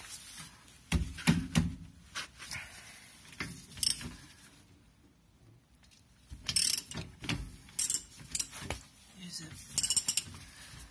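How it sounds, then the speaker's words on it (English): Ratchet wrench with a socket used while replacing rear brake pads on a Honda Elysion, heard as several bursts of quick metallic clicking separated by quieter pauses, close by and with no speech. "ratchet with the socket."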